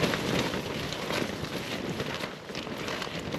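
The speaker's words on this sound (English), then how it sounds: "the wind's getting up now as well" Steady wind gusts buffet a campsite at night, a loud broadband rush with rumbling low buffeting across the whole stretch and no talk.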